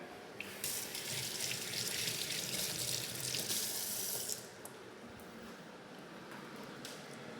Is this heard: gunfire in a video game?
no